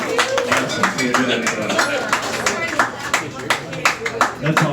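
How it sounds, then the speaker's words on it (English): A comedy club audience at a bar claps in scattered, uneven bursts, with individual claps standing out and voices mixed in among them. "By round of applause, how many people here think that America is a great country?"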